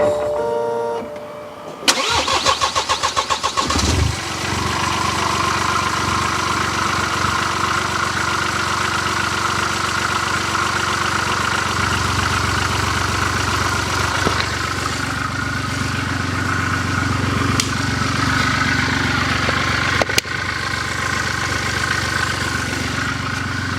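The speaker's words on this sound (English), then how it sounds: "I fired the engine up and it sounds pretty good." A BMW diesel engine cranks briefly and catches after an oil change with topped-up oil, then settles into a loud, steady idle with an unmuffled, rough exhaust note from a missing DPF/downpipe section.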